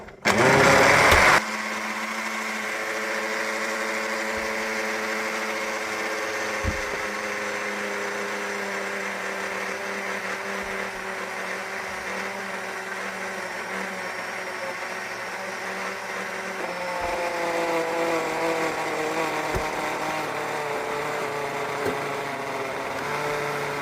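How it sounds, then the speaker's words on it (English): Blender running on high while whipping heavy cream into butter: a loud, continuous motor whine with a sharp burst at the start, holding steady and shifting slightly in pitch and load near the end, with no talk. "So pour your heavy cream into your blender about half full."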